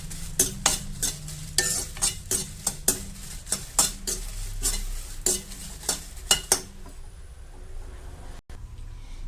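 Dry red chillies are stir-fried in a pan, a utensil scraping and tapping the pan in quick repeated strokes over a soft sizzle, close and clear.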